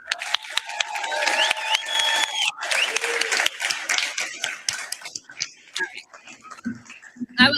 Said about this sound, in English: Let's give them one more round of applause, y'all.